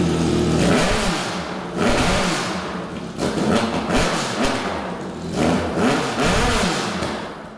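Quad turbo street bike engine revving hard in repeated bursts, loud and close, each blip rising and falling with a rough, throaty exhaust roar between brief dips toward idle.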